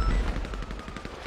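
Gunshots crack in quick succession during a GTA V roleplay shootout as cars' tires are shot out, a short, fairly faint burst of rapid fire.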